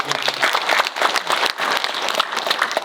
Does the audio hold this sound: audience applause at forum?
yes